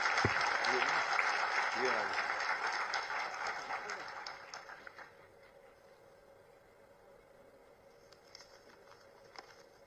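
Loud audience applause at a public ceremony unveiling a statue of Maharaja Agrasen, filling the first half and then fading to a lower crowd murmur with scattered claps.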